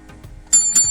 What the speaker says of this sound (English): I'm going to give it a bell,